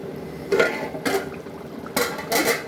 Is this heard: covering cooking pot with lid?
yes